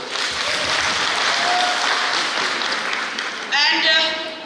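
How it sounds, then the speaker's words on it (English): Conference audience of female English teachers gives a steady round of applause that fills the room at moderate loudness, with a voice briefly rising over it near the end. "Please give a big round of applause."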